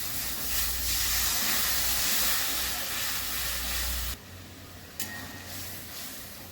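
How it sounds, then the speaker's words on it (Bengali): Water boils hard in masala for a rohu fish curry, a loud, dense hissing bubble that cuts down abruptly to a quieter simmer with a brief knock. "জল ফুটছে, মাছগুলো দিয়ে দিচ্ছি।"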